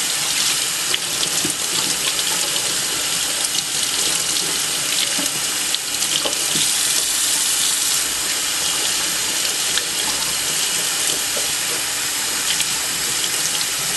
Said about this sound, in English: I'm going to rinse that out